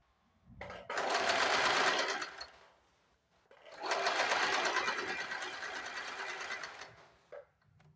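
A sewing machine runs a straight seam on a lined blouse, whirring steadily in two long close runs with a short pause between them.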